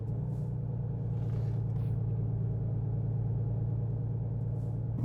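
A truck in American Truck Simulator drives a little too fast on a 30 speed limit road, its engine giving a steady, loud, low rumbling drone that holds constant throughout, with no talk.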